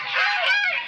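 A turkey or guinea fowl lets out a single loud, nasal, honking call close by, wavering in pitch for under a second.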